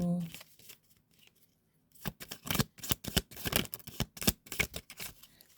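Tarot cards being shuffled close up: after a quiet pause, a run of quick papery riffles and slaps comes in uneven bursts, crisp and near.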